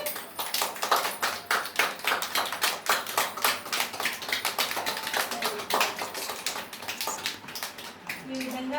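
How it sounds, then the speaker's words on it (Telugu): Children clap together at a Teacher's Day celebration in a centre, a lively run of quick, uneven claps that carries on throughout, with voices faintly mixed in. "ఒకసారి అందరూ కూడా క్లాప్స్ కొట్టండి."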